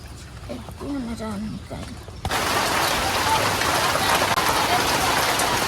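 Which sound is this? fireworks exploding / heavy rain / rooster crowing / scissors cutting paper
heavy rain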